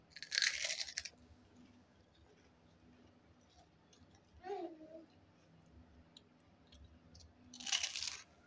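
Crisp crunching from biting into freshly oil-fried home-cooked food, two loud bursts at the start and end with a softer bite in the middle, over quiet room noise.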